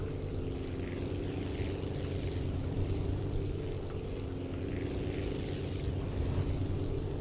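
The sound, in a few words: airplane flying in the video game Aviassembly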